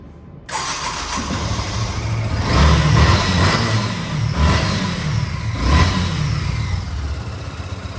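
A used motorcycle, apparently a Honda Hornet 2.0 offered at a second-hand bike shop, fires up suddenly after a short pause, then runs loud and close with a few rising revs over a rough idle.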